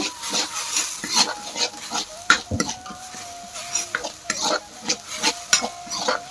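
Ground turmeric, cumin and coriander powder frying in a pan for a fish curry, with a soft sizzle broken by repeated sharp clinks and scrapes of a spoon against the metal, close and without talk.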